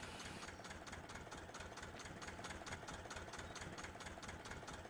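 An engine idles with a rapid, regular knocking rhythm, steady and mechanical throughout, quiet overall.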